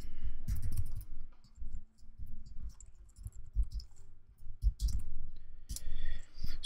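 Quiet keyboard clicks come in irregular bursts and pauses as text is typed on a computer keyboard at a desk for a Blender text object.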